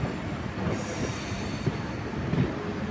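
A MEMU train pulling into Kottayam station gives a continuous heavy rumble with high wheel squeal, loud and close, with no voices.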